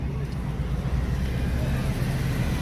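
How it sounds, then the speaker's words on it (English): Honda NSX pulling away from a car meet: a low engine rumble rising gently as it leaves, heard from nearby. "Got the NSX right there leaving."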